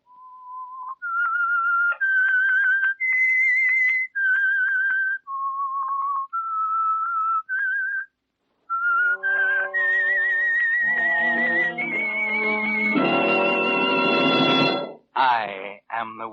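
A lone whistler carries the Whistler radio show's theme, a slow, eerie melody of sustained notes. Orchestral music then swells beneath and takes over with a loud chord and a few final stabs.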